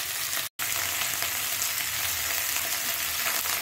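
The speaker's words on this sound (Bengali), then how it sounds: "এবার পেঁয়াজ কুলিগুলো দিয়ে দিলাম। পেঁয়াজ করে একটু ভেজে নেবো পেঁয়াজের সাথে।" Spring onion stalks and onions fry in a hot pan with a loud, continuous sizzle close up. The hiss breaks off briefly once near the start, then carries on steadily without any voices.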